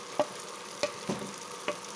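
Soya chap frying with spices, a soft steady sizzle punctuated by four distinct spoon taps and scrapes against the pan.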